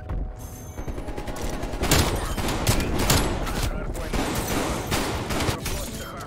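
SA12 shotgun fire in Call of Duty: Cold War, with loud booming shots over a constant din of game action and other gunfire, and someone talking over it.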